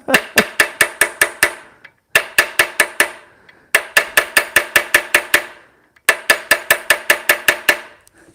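A hammer strikes metal in four quick bursts of about eight sharp, ringing blows each, with short pauses between them; the blows are loud and close.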